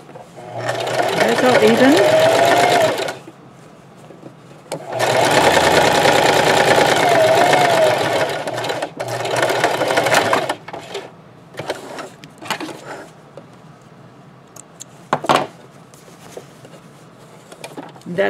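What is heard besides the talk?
sewing machine stitching a scrub cap seam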